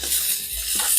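Garlic cooking in a pan for osso buco, a brief close sizzle with a stir or two, no voices.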